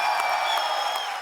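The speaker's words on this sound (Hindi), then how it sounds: "आप सबकी जोरदार तालियों के बीच" A short burst of loud, dense applause from the studio audience of The Kapil Sharma Show welcoming a singer, with faint cheering mixed in.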